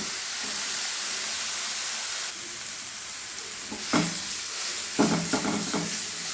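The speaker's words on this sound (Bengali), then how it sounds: "গ্যাসের ফ্লেম মিডিয়ামে রেখে আমি 2-3 মিনিট ভালোভাবে একটু ভেজে নেব।" Onions and tomatoes fry in a pan over a medium gas flame, giving a steady, faint sizzle with bursts of stirring and scraping toward the end.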